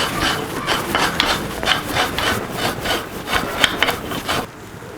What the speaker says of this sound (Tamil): முதல்ல தேங்காய் திருவி எடுத்துக்கலாம்.